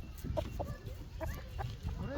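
Chickens clucking close by at a farm, with soft, scattered clucks over a low rumble of background noise. Faint voices can be heard alongside them.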